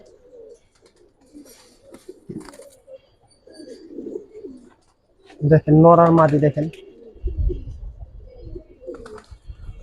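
Pigeons coo in a short, fairly loud burst near the middle, while someone talks in the foreground before and after the cooing.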